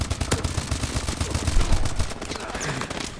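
Rapid automatic gunfire from Call of Duty: Advanced Warfare, dense bursts of loud shots layered with battle noise for a few seconds.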